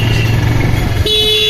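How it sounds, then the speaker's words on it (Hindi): Heavy road traffic near Prem Mandir in Vrindavan, with loud, close engine rumble and a sharp vehicle horn that honks for about half a second near the end. "लेकिन ये ट्रैफिक बहुत ज़्यादा रहता है"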